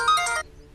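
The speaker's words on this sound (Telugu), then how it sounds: "అది నా సెల్ ఫోను." A cell phone ringtone sounds in a short, bright electronic burst that cuts off abruptly after less than half a second.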